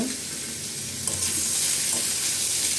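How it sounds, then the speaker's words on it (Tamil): Elephant foot yam fries in coconut oil while being stirred and turned in the pan, a steady close sizzle with scraping stir sounds and no talking. "நல்லா அந்த தேங்காய் எண்ணெயிலே இந்த கருணக்கிழங்கை நல்லா அப்படியே புரட்டி புரட்டி எடுத்துடலாம்"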